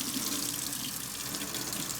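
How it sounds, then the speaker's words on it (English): Hot water runs steadily from a tap over a bowl, a continuous, close, even splashing rush with no talk. "I'm just going to run it under some hot water until that bowl heats up enough"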